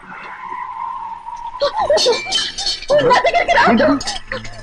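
Car tires screech in a sustained skid as a car pulls to a stop in a Telugu movie scene, then loud, overlapping voices talk while engine noise continues underneath.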